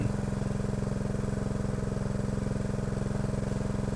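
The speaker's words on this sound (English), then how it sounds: "I'm using the actual hydraulic power to push it against the edge of the deck. And there it splits open really easy." A hydraulic log splitter pushes a piece of maple against a deck edge, its engine pulsing in a steady, loud, even chug throughout, with no distinct crack of splitting wood standing out.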